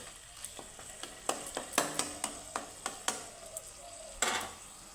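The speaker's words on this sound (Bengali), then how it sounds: "দিলাম তিনটা চেরা কাঁচা লঙ্কা নাড়িয়ে চাড়িয়ে" Three slit green chilies stirred in a frying pan of oil for a vegetarian taro-leaf dish: a steady sizzle under sharp scraping and clinking of a spoon against the pan, close up, with no talk.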